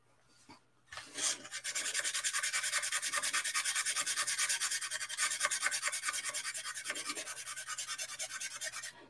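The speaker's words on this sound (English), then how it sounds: "there's enough thickness in this Reynolds wrap foil that I can, as long as I'm careful, sand it down enough to get rid of it" Steady, close scraping of sandpaper across Reynolds Wrap aluminium foil laid over a scale model, a fast even rasping stroke that runs on for several seconds after a short start, with no voices.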